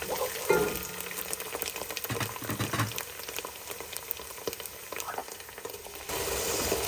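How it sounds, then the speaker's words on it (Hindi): Onions fry in a pot with a constant crackling sizzle. Occasional stirring scrapes and clinks sound close over it, and the sizzle swells louder near the end. "प्याज, तो भूनना है अंटिल इसका पानी, प्याज का पानी ज़रा ड्राई हो जाए"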